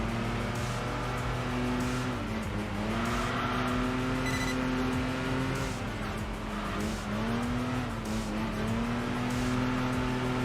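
A fast car's engine drones loudly and steadily throughout in the racing video game Enthusia Professional Racing, its pitch dipping and climbing with gear changes and acceleration, with faint tire noise underneath.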